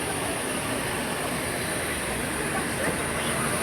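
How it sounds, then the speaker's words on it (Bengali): A dragon train amusement ride at a fair rumbles along with continuous rail-like clatter, hiss and faint wheel squeal, steady and fairly loud throughout. "ড্রাগনে উঠবে ড্রাগন ট্রেনে"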